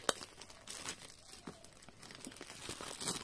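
Plastic wrap crinkles and rustles close by as a box is opened, with scattered crackling bursts and soft tearing sounds, no talking.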